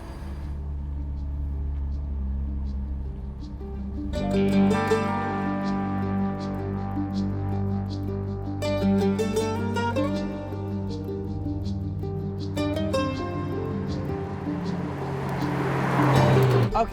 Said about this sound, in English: Let's pull out of the garage and see what it's like to drive.